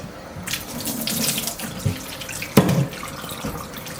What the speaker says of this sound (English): I just gotta wash my dishes